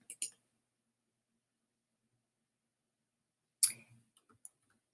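A few sharp computer mouse clicks sound in a quiet room: a quick double tap, a long pause, then a louder click with some small ticks after it.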